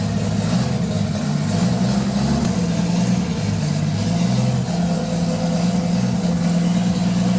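A Nissan GT-R engine swapped into a Datsun 240Z idling continuously, a deep steady rumble with a slightly uneven pulse, close and loud with no talking.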